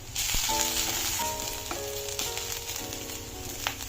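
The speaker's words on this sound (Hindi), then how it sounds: "तो लहसुन हमारा देखो हो चुका है, इसको हम डाल देते हैं।" Garlic sizzles in hot oil as a tadka for sarson ka saag, a steady crackling fry with a few clinks of a utensil and faint background tones, close and continuous.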